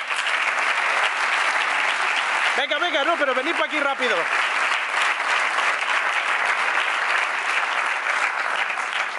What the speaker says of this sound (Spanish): levantaos y un fuerte aplauso para ellos